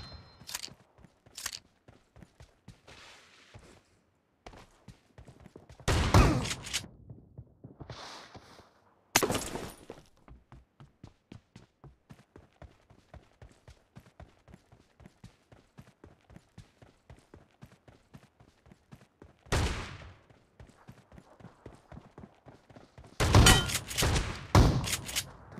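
Gunfire in a team deathmatch video game: rapid rhythmic shot bursts running through the whole stretch, punctuated by several louder blasts, moderately loud with quieter gaps.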